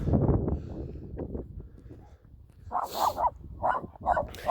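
A dog barks in a few sharp, close bursts, with rough rumbling noise and shuffling before the barks come through clearly in the second half.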